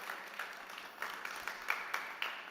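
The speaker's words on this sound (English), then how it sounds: "Big applause to the startups" Startup pitch event audience applauding at a summit stage, a faint, distant patter of claps with a few louder hand claps standing out.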